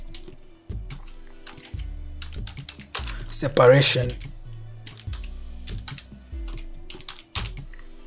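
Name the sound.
typing a layer group name on a computer keyboard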